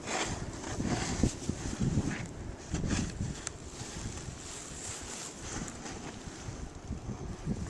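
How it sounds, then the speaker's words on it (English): Blizzard wind buffets a camera microphone outdoors in a snowy whiteout, a continuous rough roar with gusty low thumps throughout. "Trying to keep the wind off the camera."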